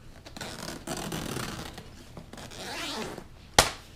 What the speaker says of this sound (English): I like the zipper so far, nice and big.